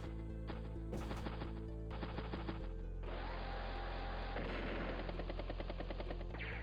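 Rapid bursts of anti-air gunfire from the video game Advance Wars: Days of Ruin, a dense clattering barrage with repeated sharp impacts, fairly quiet overall and with no talk.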